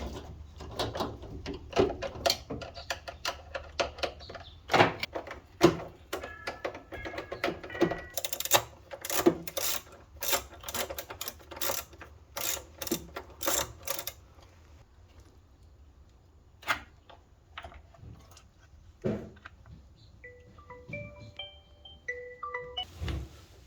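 A part of a Hisense washing machine being unscrewed under repair, heard as a close series of sharp clicks, taps and metallic rattles in irregular bursts, with some quieter gaps.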